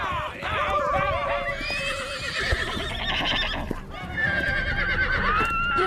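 Wild horses in a Yakari cartoon whinny and neigh again and again while galloping hooves clatter underneath. The herd sounds close and busy, with voices mixed into the loud, continuous commotion.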